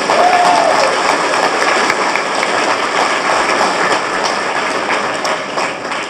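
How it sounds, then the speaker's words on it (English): A business audience at the American Chamber of Commerce's 2011 annual members' meeting in Taiwan breaks into dense, loud, sustained applause that slowly eases toward the end. "So I think we should all give her a round of applause."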